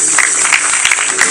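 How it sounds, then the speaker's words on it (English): A church congregation claps hands in praise, a brief burst of loud, dense applause close by with a faint voice mixed in. "Give him one more hand clap of praise."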